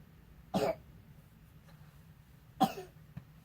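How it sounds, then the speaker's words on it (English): A person just awake coughs twice, two short harsh bursts a couple of seconds apart in a quiet room, with faint background hum between them. "She always wakes up with a cough."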